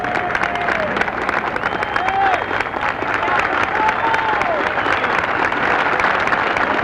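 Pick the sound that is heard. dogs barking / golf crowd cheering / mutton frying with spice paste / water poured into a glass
golf crowd cheering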